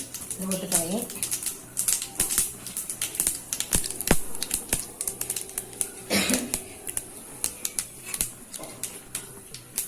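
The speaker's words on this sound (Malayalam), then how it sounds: "കടുക് പൊട്ടിത്തുടങ്ങി." Mustard seeds pop and crackle in hot coconut oil while Kerala sambar is cooked, throwing out a close, irregular stream of sharp snaps. A voice speaks briefly over the spattering.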